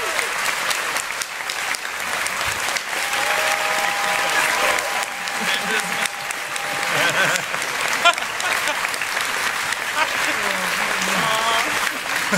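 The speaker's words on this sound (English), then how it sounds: "one more round of applause for our absolutely amazing director, please" Sustained audience applause for a director at a furry convention puppet show on stage, steady and full through the whole stretch, with a thin tone and faint voices mixed underneath.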